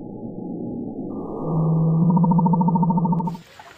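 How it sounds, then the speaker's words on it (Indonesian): A whale call from the video game Jurassic World Evolution 2: a sustained, low, droning groan that rises and then pulses rhythmically before cutting off abruptly, heard alone. "Wow, kalau ini ikan paus."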